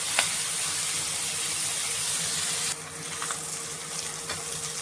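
Sarputi fish fry in a small amount of oil, giving a strong, steady sizzle that softens partway through into a quieter hiss with occasional light pops.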